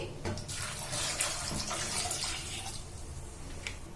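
Water is poured into a pressure cooker holding chopped tomato, salt and turmeric powder, a steady close splashing gush that continues for several seconds.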